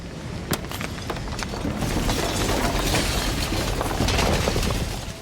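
A shattering sound in the video game Slay the Princess: a loud, dense crackle of breaking with sharp sudden bursts, spreading into a rushing wash that lasts several seconds before easing off.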